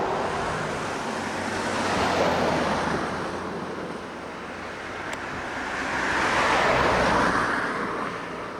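Road traffic passes near a creek bridge by the Sooke Basin on Vancouver Island, with two broad swells of tire and engine noise rising and fading over a constant windy wash.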